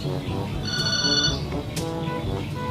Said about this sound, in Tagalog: Wala, nanawag si Soledad.